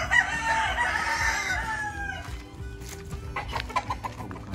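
Fighting rooster at a gamefarm in Bali, a loud close crow drawn out over a couple of seconds, followed by scattered clucks and faint rustling.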